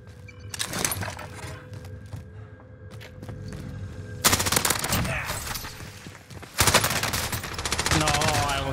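Gunfire in the Warzone video game, a heavy-recoil gun firing in rapid automatic bursts, loud and close, with long sustained strings of shots separated by brief pauses.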